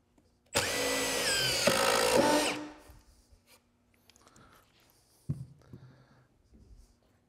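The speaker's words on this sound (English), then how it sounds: "reducing wobbling and strip out while you're driving the screw" A power drill drives a TORX TTAP screw into a wooden board in one loud burst of about two seconds that winds down, followed by faint handling clicks and knocks.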